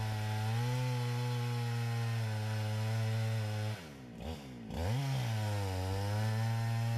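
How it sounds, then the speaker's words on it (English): Chainsaw with a 24-inch bar cutting into a large tree: a loud, steady engine drone that dips briefly as the load changes and then climbs back to full revs. "He has a 24-inch bar on this saw, but the tree is big enough at this point that he cannot get all the way through the tree"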